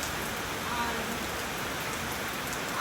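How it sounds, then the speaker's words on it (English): Steady rain falls in Trinidad and Tobago as a dense, even hiss of drops on surfaces, continuous and moderately loud, with no voices over it. "Rain falling nice and good."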